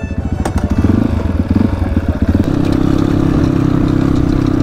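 Motorcycle engine starting up with a few rough, pulsing revs, then settling into a loud, steady close idle, no voices.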